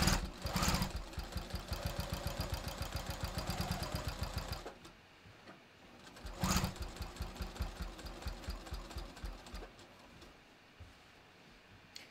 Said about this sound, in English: I'm gonna lengthen my stitch to like 3 for this. And I'm just gonna stitch it.